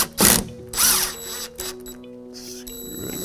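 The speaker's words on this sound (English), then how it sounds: "it holds the box in place while we drive screws in to hold it" Power drill driving screws into a plastic wireless structured media center box, with two short whirring bursts of the drill up close followed by quieter clicking and rattling handling sounds.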